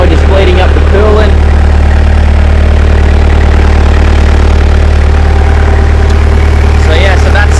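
A Toyota Hilux LM167 engine, freshly reassembled after a timing belt job, idles steadily while its coolant bleeds, a loud, close, constant low drone with a few brief clinks and knocks over the top.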